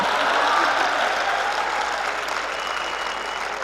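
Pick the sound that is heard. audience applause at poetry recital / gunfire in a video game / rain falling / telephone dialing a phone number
audience applause at poetry recital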